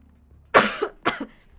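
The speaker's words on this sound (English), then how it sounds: "so that's why I'm coughing a bit" A man recovering from a sinus infection and a cold gives two close, sharp coughs in quick succession against a quiet background.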